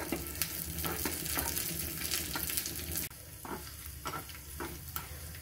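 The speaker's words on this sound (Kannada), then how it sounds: "ಒಗ್ಗರಣೆ ರೆಡಿ ಆಗ್ತಾ ಇದೆ" Mustard seeds, ginger, a dry chili and curry leaves sizzle in hot oil for a dal tempering, a steady crackling fry with stirring scrapes, then a quieter, sparser sizzle after a sudden drop halfway.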